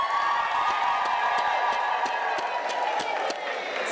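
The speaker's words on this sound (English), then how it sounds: "Can you please give them a round of applause?" A large graduation ceremony crowd claps steadily in sustained applause, dense and even, with scattered sharp claps standing out over a continuous hall-filling roar.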